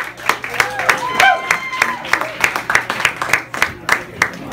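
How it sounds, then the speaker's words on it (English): A small audience gives a short burst of scattered, sparse applause for Nate, with individual claps standing out over a background voice and a faint cheer. "Forced applause is just as good"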